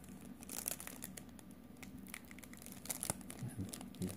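Foil wrapper of a Magic: The Gathering Ikoria booster pack being torn and crinkled open up close, a steady rustle with sharper rips near the middle and end, no talking.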